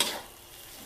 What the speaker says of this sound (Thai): ขั้นตอนการผัดเครื่องนะเราใส่เครื่องเยอะไม่พอเราก็ต้องผัดให้มันหอมๆด้วยผัดให้มันถึง